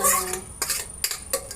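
Marinated chicken tipped into a pan of curry on a home stove, with clattering of a metal utensil against the pan and a few sharp scraping stirs, close and fairly loud, no voices.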